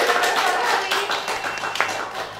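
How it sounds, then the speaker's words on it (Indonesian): Audience clapping at a church gathering, a brief burst of many hands applauding that fades gradually. "Boleh tepuk tangan dulu dong untuk kamu dan Suster"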